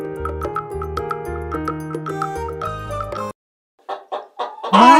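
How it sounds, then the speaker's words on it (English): A hen clucks in several short, sharp bursts after a bouncy children's tune ends, ending with a louder squawk close by. "Nice hen."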